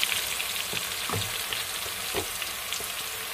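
Dough frying in moderately hot oil, a dense, even bubbling sizzle with a few soft knocks of a utensil against the pan, nearby and free of speech.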